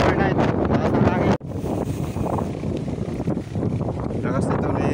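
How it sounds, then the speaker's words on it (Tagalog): Heavy wind at Caliraya Lake, Laguna, buffets the microphone in a constant loud roar, with a brief dropout partway through and no clear speech. "Lakas ng hangin."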